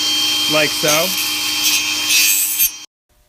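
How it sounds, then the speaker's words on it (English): A table saw cuts through wood stock to bring it down to a smaller size, whining loudly and steadily for nearly three seconds before stopping abruptly, with a brief spoken phrase near the start. "Take your stock and run it through a table saw until it gets to be a smaller size to fit the hole"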